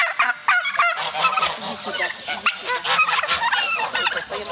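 Farm poultry, including geese, ducks, chickens and turkeys, honk and gobble in a lively, overlapping chorus close by, with a brief word spoken over the birds.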